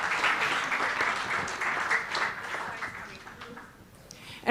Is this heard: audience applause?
yes